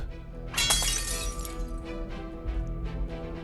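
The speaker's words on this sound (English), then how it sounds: "a brittle screech of shattering metal, and he sees it is his own sword that has snapped in two" A metal sword blade shatters and snaps in two: one sharp, bright crack right up close, followed by a fading metallic ring and scattered small fragments.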